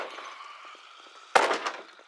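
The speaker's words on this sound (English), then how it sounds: "also implemented the first of several sets of new door thumps" In the zombie survival game Project Zomboid, a single heavy thump hits a door. It lands sharp and loud after a quiet, hissing lull and trails off with a short rumble.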